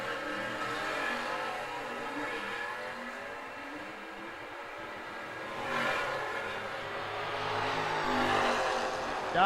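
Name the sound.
drag race cars launching: 79 Malibu wagon vs 67 Camaro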